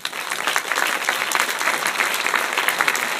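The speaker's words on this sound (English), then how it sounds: "So please give yourself a round of applause as well." A theater audience at a Jack Reacher film introduction bursts into steady, dense applause, many hands clapping continuously at moderate volume.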